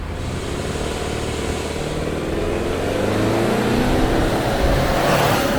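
A Subaru Ascent Onyx SUV with a turbocharged engine, CVT and all-wheel drive accelerating at full throttle, its engine drone loud and steady and rising gradually in pitch from inside the cabin, with no talking.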